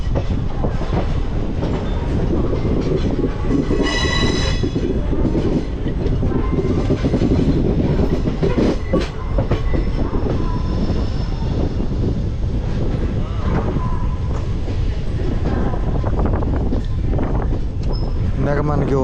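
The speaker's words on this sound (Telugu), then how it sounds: "ఈ గ్యాప్లో భాగ్యనగర్ ఎక్స్ప్రెస్ అయితే వచ్చేసింది" Bhagyanagar Express train pulling into a station platform, a loud, steady rumble of wheels and carriages with clickety-clack rail joints and a brief horn, close by, with a person talking over it.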